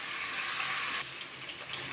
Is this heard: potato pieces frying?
yes